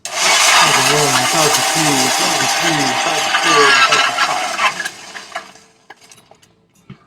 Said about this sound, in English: we're going to put some ice in there, blend this up